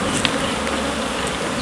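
Bees buzz densely at an open beehive during a hive inspection, a steady close swarm drone filling the short stretch with no pauses and no talking.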